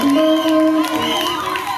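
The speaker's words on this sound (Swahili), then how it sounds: "Hebu mpigie Bwana makofi mengi kwa ajili yake." A crowd at a church gathering claps and cheers for a bishop, with whoops and shouts mixed into the applause and a sustained tonal sound running beneath, loud and continuous throughout.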